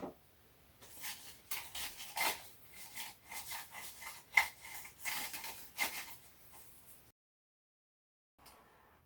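Greenery stems being trimmed for a white flower arrangement, a series of close, soft snipping and rustling cuts in an irregular rhythm, followed by a brief quiet pause and one last faint rustle.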